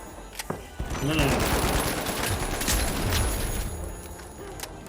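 Rapid video game gunfire from The Finals rattles in dense bursts across the whole stretch, loud and close, with a voice talking over parts of it.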